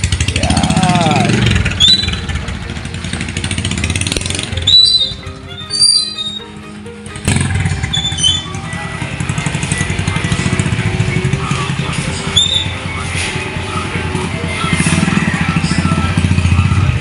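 A Honda Wave 125 motorcycle engine with a freshly converted clutch kit runs close by during a clutch test, its steady engine hum continuing through most of the stretch with a brief drop midway, while people talk over it.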